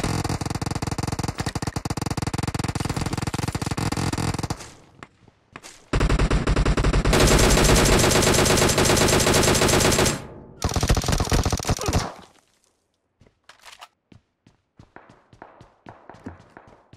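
Loud sustained bursts of automatic machine gun fire in the PUBG Mobile battle royale game on the Livik map, two long volleys separated by a pause, then scattered fainter shots and footsteps trailing off.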